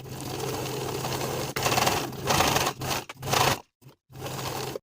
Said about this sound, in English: Now I'll sew in the crease of the bias tape from top to bottom